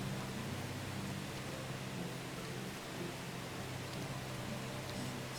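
Steady rain falls in the video game Medieval Dynasty, a soft, even hiss of rainfall continuing alone without pause.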